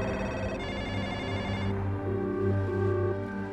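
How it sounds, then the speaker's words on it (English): Several telephones ring at once as news of the Madoff fraud breaks in December 2008, overlapping steady rings held loud and continuous over a tonal bed with no voices. "phones were ringing around the world."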